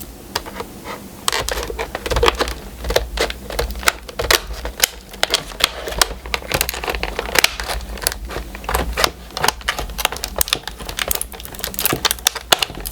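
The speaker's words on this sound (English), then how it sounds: "I'm going to go ahead and I'm going to cut the bottom of this" Rapid, crisp snipping and crunching of scissors cutting through stiff material, close by, with rustling in between and no talking.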